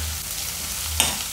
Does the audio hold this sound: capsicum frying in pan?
yes